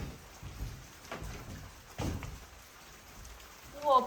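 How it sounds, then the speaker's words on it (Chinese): Inside a house during a heavy downpour, water drips through a leaking roof against the steady hiss of rain outside. The sound is fairly faint, with a few louder splashes and thuds, and a brief voice at the very end. "你看，在滴水。 是的。 看到没有这个？ 外面下大雨，里面下小雨。"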